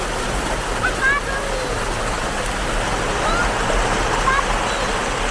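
Irrigation water pours steadily like a small waterfall among rice fields on a farm, a continuous close rushing wash with faint voices and bird-like chirps in the background.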